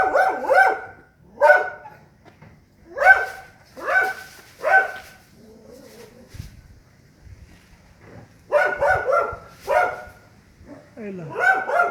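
Dogs bark at a porcupine in a yard, several loud close barks in bursts with pauses between, a few yips, and voices talking quietly in the quiet gaps.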